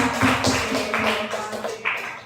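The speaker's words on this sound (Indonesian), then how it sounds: "Tepuk tangan buat kita semua." At the close of a primary school teacher's presentation, an audience claps hands in a few uneven bursts of taps, near and moderately loud, fading toward the end.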